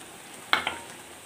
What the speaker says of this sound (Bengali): এভাবে কষিয়ে নিলাম মশলাটা ভালো করে